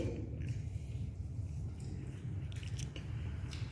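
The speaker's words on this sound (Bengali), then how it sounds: "চিংড়ি মাছটা খাচ্ছি" Close, quiet chewing and biting of prawn in spicy fish curry, soft wet squishing and crunching bites repeating in an uneven rhythm.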